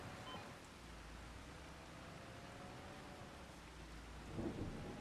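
Steady rain and rumbling thunder from a stormy day in Farming Simulator 25 on the Ladyhill Ireland map, a continuous wash of rainfall with low rolling thunder and a brief swell near the end.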